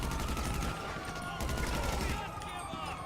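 Rapid bursts of gunfire from GTA Online played in first person on PS4, dense overlapping shots across the whole clip with a brief lull near the middle, mixed with game sound.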